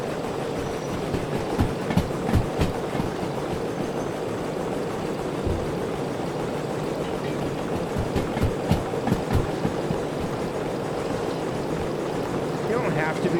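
A steam locomotive in the railway game Derail Valley rumbles along in the rain, with steady rolling noise, rhythmic clanks and intermittent clicks throughout.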